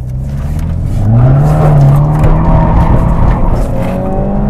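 A BMW F30 sedan accelerates hard and drifts on an open road, its engine roaring loudly and close with rising pitch while tires squeal throughout, no talk over it.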